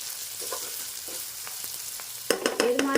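Radish pieces frying in a pan over low to medium flame, with a quiet crackling sizzle and occasional stirs that become louder, clattering scrapes near the end.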